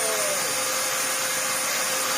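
A Dyson DC04 upright vacuum cleaner, old and overdue a filter change, runs steadily at close range with a continuous loud whooshing motor drone and no talk.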